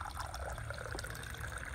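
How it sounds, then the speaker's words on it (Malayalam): Water is poured into a drinking glass, giving a soft, steady trickle and fill for just under two seconds. It is quiet and close, with no voices. "ആദ്യത്തെ ഈ ഒരു ഗ്ലാസ്സിലേക്ക് ഞാൻ കുറച്ച് വെള്ളം എടുക്കുകയാണ്."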